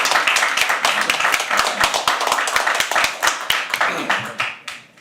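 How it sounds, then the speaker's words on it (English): Applause at a live poetry open mic, with distinct sharp claps from a small audience in quick irregular rhythm that thin out and fade toward the end, with some talk underneath. "Can we please have another round of applause?"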